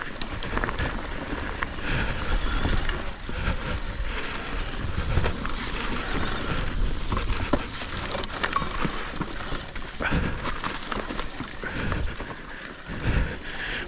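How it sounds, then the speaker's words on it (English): A Trek Slash+ electric mountain bike rides a trail with its motor in top power mode, giving continuous rough tyre and gravel rumble with rattles and clatter and only a faint motor whine, no voices. "You're enjoying listening to the bike instead."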